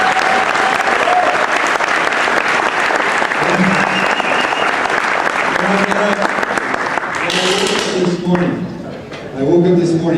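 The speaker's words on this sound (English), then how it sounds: "give yourselves a round of applause" Audience at an affirmations talk breaking into loud, sustained applause that fills the room, with voices and cheering rising toward the end as the clapping thins out.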